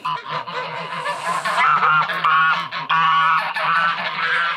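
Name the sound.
geese honking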